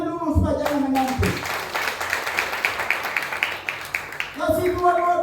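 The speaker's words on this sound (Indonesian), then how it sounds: "Beri tepuk tangan dulu supaya jangan mengantuk" A church congregation breaks into clapping during a sermon, brisk sharp claps in a quick uneven rhythm, with a voice speaking before and after the burst.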